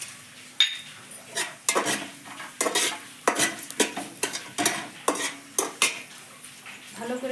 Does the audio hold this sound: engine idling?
no